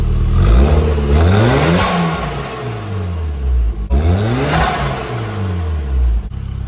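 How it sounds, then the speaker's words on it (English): An old-body-style Chevy pickup with a turbo engine running without an air filter, revving hard in two loud, close bursts, each rising to a roaring whine and falling back, with rattling under the engine noise. "So we're gonna see how this thing sounds with just no filter to the turbo"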